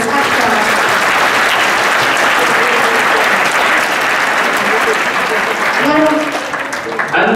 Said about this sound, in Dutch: Een heel groot applaus, echt wel.